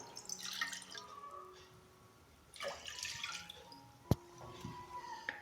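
One and a half cups of water poured into a pan while making semolina snacks, heard as soft splashing and trickling in bursts with drips and a sharp clink near the end, close and fairly quiet.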